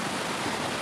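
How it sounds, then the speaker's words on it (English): A polluted river flowing through Eldoret town gives a steady, broadband rushing wash of water, close and continuous with no speech. "So you can see at this point the river flowing."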